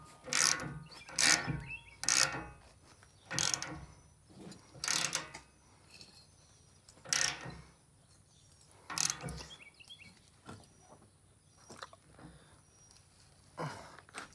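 A ratchet socket wrench loosens a bolt on a rear bumper and tire carrier for a 2007–2013 Toyota Tundra. Short bursts of clicking ratchet strokes come close and fairly quiet, spaced irregularly with pauses between them.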